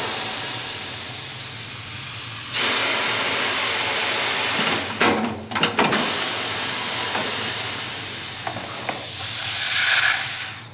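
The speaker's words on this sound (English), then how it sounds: "I will break the bead only on the inside." A Corghi 2024LL tire changer breaks the inner tire bead, giving a loud, steady pneumatic hiss with a brief break of metallic clunks and pops partway through, then the hissing resumes.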